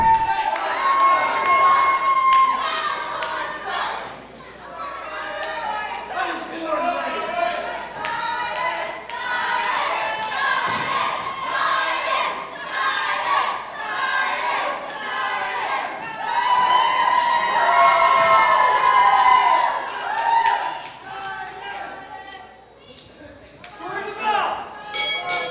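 A wrestling crowd heckles Cowboy Mike Hughes at a live indoor event, with loud jeering, shouting and cheering that swells and dips throughout, plus occasional thuds and clinks and a commentator's voice mixed in.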